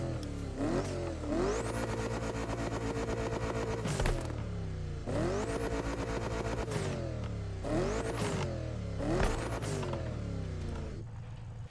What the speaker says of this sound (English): hearing a turbo flutter in a Bugatti is absolutely insane